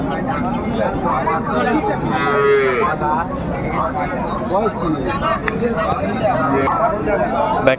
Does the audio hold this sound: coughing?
no